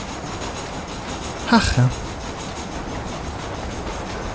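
Moving train in the video game Red Dead Redemption, a steady low rumble running throughout with a brief louder burst near the middle where a voice speaks briefly.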